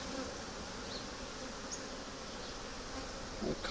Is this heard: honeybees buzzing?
yes